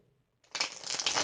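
Vice Versa Tarot cards riffled in a close, steady burst of papery shuffling that starts abruptly after a short quiet moment and runs on without pause.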